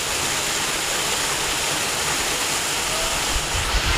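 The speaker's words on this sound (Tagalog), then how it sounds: "Ito po yung ilog" Small waterfall on a river, a loud, steady rushing roar of falling water that fills the whole moment without pause, with no voices over it.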